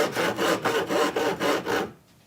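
Hand saw cutting through a wooden shelf piece for a bathrobe rack, seven even back-and-forth rasping strokes close up, then the sawing stops.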